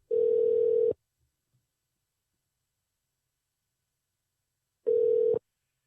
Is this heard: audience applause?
no